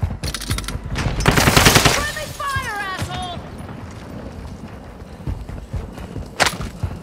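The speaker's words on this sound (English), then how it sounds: "They know I'm here, they're shooting at me." Rapid bursts of automatic gunfire in a multiplayer shooter video game, loud and close, with a sharp single shot near the end and players talking over the action.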